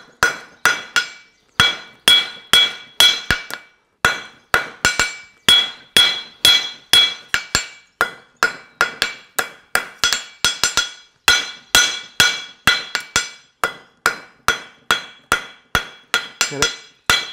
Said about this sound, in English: I'm just going to forge it down